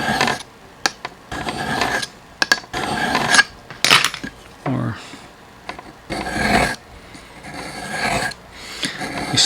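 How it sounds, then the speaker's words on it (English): A leather edge beveler is scraped along the edge of a TSPROF Kadet Pro knife sharpener in a series of close, raspy strokes of uneven length, separated by brief pauses and occasional light clinks. "It's just a matter of scraping them along the edge there."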